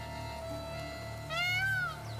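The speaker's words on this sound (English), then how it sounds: "The peacocks really have this cat sound" A peacock in The Witcher 3 gives a loud, drawn-out, cat-like wailing call that rises and bends, heard over a steady humming game backdrop with no talking.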